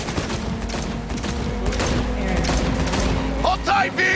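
Gunfire in the video game Cyberpunk 2077 during a car chase: a dense, continuous barrage of shots over engine rumble and background music, with shouting voices around it.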